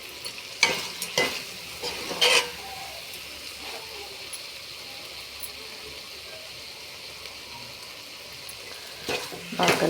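Curry ingredients with salt being stirred and fried in a pan, a quiet continuous sizzle broken by several scraping, clattering spoon strokes against the pan, no talk.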